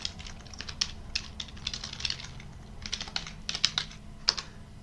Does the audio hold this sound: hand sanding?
no